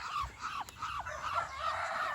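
Chicks and chickens are kept on a farm, with faint, high chirps and cheeping heard over a low rumble of background noise, indistinct and somewhat distant.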